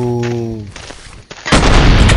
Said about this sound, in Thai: แล้วก็ยิงถังให้ระเบิดก่อนนะครับ